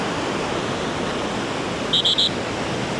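Over a constant wash of surf on a beach after a storm, three short, shrill whistle blasts sound in quick succession near the end, moderately loud and fairly close.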